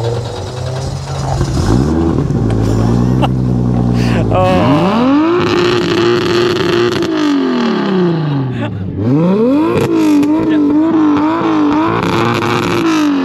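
Loud car engine revving hard through a throaty aftermarket exhaust, pitch sweeping up and down repeatedly, close and continuous.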